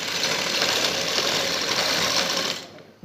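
A sewing machine stitching along the neck edges of a kurti gives a steady, close mechanical whir with rapid rhythmic ticking, running evenly for about two and a half seconds before it stops abruptly.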